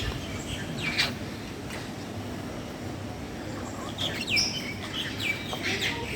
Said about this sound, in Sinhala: Love birds.